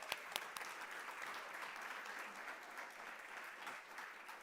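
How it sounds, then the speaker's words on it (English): A packed conference room audience applauds at a food-as-medicine event, dense steady clapping filling the room throughout, with a few sharper claps standing out near the start. "Let's give ourselves a big round of applause."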